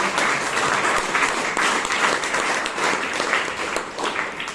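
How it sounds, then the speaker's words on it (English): Audience at a Bangalore Toastmasters club meeting giving a round of applause, dense and loud clapping from a full room that holds steady throughout without a break. "Let's give a round of applause for nation."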